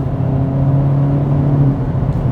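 A 2022 Hyundai Elantra N with active exhaust, heard as a steady loud engine drone and rumble with a low, sustained tone. No distinct pops stand out.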